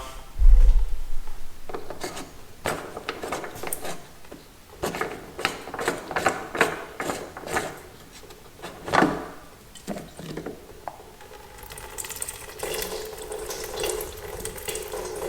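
A fuel filter on a 2.8 Duramax diesel in a Chevy Colorado or GMC Canyon, unthreaded by hand, heard close as a series of rasping, grinding turns and scrapes, irregular and broken by short pauses, with no voices.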